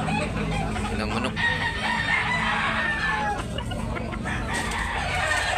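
Roosters crowing and chickens clucking among bull stags at a live poultry market in Tabunok, Talisay, Cebu, a busy continuous din of fowl calls with crowd noise beneath.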